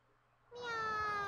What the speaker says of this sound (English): Hey, look, a cat.